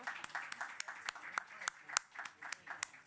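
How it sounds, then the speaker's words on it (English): Sparse, quiet clapping from a small audience greets the first panel at a COP28 session on climate and food security. Distinct individual claps land irregularly, fairly distant and faint. "give a round of applause to our first set of panelists"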